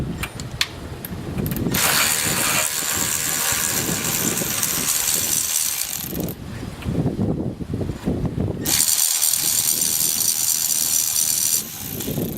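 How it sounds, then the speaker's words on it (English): Ratchet with an 11mm socket and long extension working on a CAC tube clamp of a 6.0 liter Powerstroke, repeated close clicking strokes in runs with short pauses, no talking. "we use our 11mm socket, our long extension. We got our ratchet"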